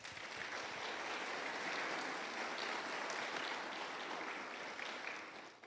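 A church congregation clapping in praise during a sermon, a sustained, uniform roar of many hands that swells slightly and then tapers off at the end, heard from some distance.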